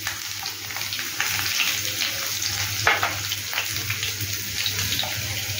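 Chopped onion hits hot oil that already holds garlic, cooking for shahi cholar dal. A quieter hiss swells into a louder, continuous sizzle with light crackling throughout.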